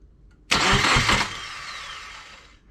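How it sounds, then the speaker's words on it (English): A twin-turbo Subaru Forester engine is cranked through a hand-wired starter switch with the ignition off. A loud starter whir bursts in suddenly, churns for under a second, then tails off into a fading hum without the engine catching. "I've got my switch hooked up for the starter."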